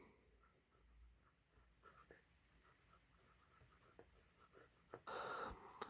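A Reynolds fountain pen made in India writing on paper, faint soft scratchy nib strokes in short irregular bursts, close and quiet, with a brief louder rustle near the end.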